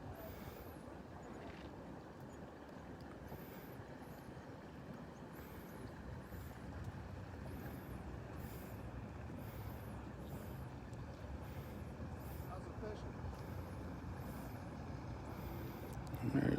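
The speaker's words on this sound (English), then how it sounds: "There's one boat coming from down yonder" Motorboat moving through a river pass near a beach, a steady low engine rumble continuing throughout at moderate distance, mixed with wind and outdoor ambience.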